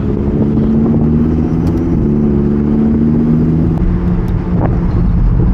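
Lamborghini Huracan Evo Spyder V10 in Corsa mode, a loud, steady engine drone with strong low harmonics that shift pitch slightly partway through, continuous and close throughout.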